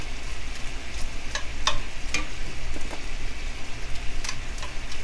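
Guajillo and ancho chiles toast and get stirred in a hot pan, giving a steady dry sizzle with scattered crackles and light scraping ticks, close and continuous without any voices.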